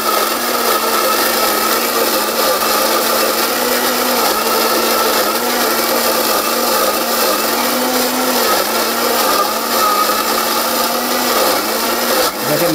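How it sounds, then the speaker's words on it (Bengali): An electric mixer-grinder blender grinds ginger with a steady, loud motor whine. The pitch wavers slightly as the pieces churn, and it runs unbroken with no talk. "ভাই এই যে ব্লেন্ডার, এটা হচ্ছে বাংলাদেশের সবথেকে সেরা।"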